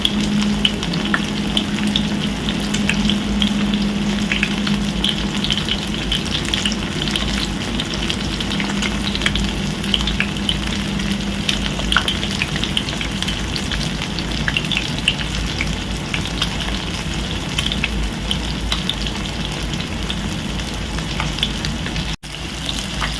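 Fish frying in a pan of oil gives a steady, dense sizzle that holds at an even level without pause, close and fairly loud, with no voices over it.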